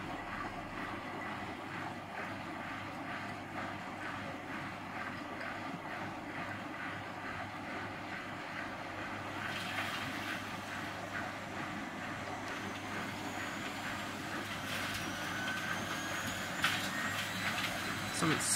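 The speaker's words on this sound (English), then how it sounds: "Something's scratching around in that appliance. I think it's a dried off limescale, I presume." A Miele W Classic WDA110 washing machine spins steadily with a droning motor hum. Dried limescale scratches and rattles in the drum, and the whine grows louder and rougher in the second half.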